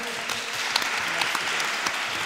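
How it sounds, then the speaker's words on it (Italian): Dense, continuous audience applause filling a hall at a comics convention showcase, loud and sustained with many overlapping hands and no pause. "quindi un applauso"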